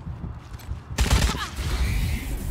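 Gunfire bursts in Wasteland 3, a sudden loud volley of shots and impact noise that starts abruptly after quiet background chatter, with a sustained crackling tail and a voice speaking over the end.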